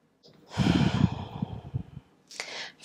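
A deep, audible exhale during a Pilates floor workout, one long breathy rush lasting over a second, followed by a shorter, sharper breath sound, close and fairly loud with no talking.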